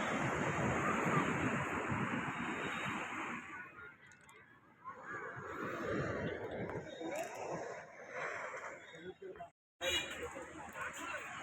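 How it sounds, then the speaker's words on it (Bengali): Ocean surf washes onto a beach at night in a steady, broad roar with gusts of wind noise on the microphone, dipping briefly before returning near the end. "সমুদ্রের আওয়াজ শুনতে পাচ্ছি।"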